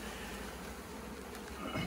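Swarm of honeybees buzzing close by after a package of four pounds of bees is dumped out, a dense steady hum with a slight swell near the end.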